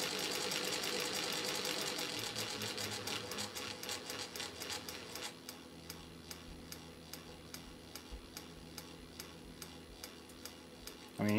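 A sewing machine driven by a servo motor runs at low speed, a steady mechanical ticking that slows to a distinct, evenly spaced tick partway through, heard alone and fairly quiet.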